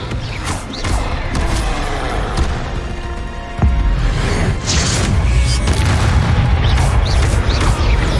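Spell blasts from combat in Hogwarts Legacy, with a fire spell among them: dense booming, thudding impacts and whooshes layered over a continuous loud game-battle background, with a sharp hit near the middle followed by a louder stretch.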